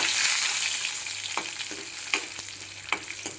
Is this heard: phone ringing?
no